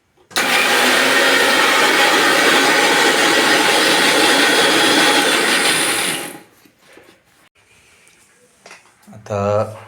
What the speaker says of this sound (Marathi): खोबरं कोथिंबीर लसूण हे सगळं घालून आता मिक्सरला बारीक करून घेऊया